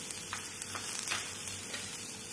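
Chopped capsicum sizzles softly in a pan over a low flame, salted and cooking until soft for raita, with faint steady frying crackle and a few light stirring scrapes, no talking.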